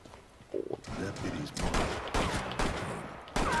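Gunfire in Rainbow Six Siege rattles in several bursts of rapid shots, sharp and fairly loud, with short pauses between volleys and faint game ambience underneath.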